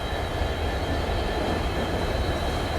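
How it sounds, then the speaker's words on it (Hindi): A Guwahati Silchar Express hauled by paired WDG4 diesel locomotives arrives at night, a steady broadband rumble and rolling roar holding constant throughout, with no voices. "39 मिनट की देरी से ये आ रही है अपनी गुवाहाटी सिलचर एक्सप्रेस"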